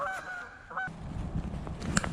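Geese honking beside Loch Raven lake in Maryland, a few loud nasal honks up close that ring out and then fade into a rougher outdoor bed, with one sharp honk near the end.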